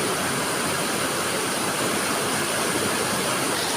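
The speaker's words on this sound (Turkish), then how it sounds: "Bu şelale yerde şuradan akıyor. Ve buradan bayağı hızlanıyor." Rushing waterfall inside Kaklık Cave, a steady, loud broadband roar of fast-flowing water that continues without a break throughout.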